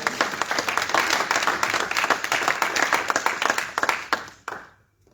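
A congregation applauding in church, dense steady clapping from many hands that fades out near the end.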